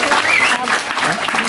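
Scattered, uneven applause from the audience at a Balinese bondres comedy performance, loud and close, with voices mixed in throughout the brief burst.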